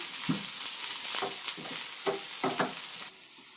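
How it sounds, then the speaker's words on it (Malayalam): Sliced onions sauté in a hot pan, giving a bright, steady sizzle up close, broken by a few scraping stirs before the hiss drops suddenly to a quieter level near the end. "നമുക്കിതിലേക്ക് സവാള ഇട്ട് കൊടുക്കാം ഒന്ന് വഴണ്ട് വരണം"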